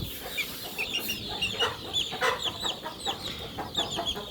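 A young chicken clucks while it is weighed on a scale, giving a run of quick, close chirping clucks in an uneven rhythm with no talk over it.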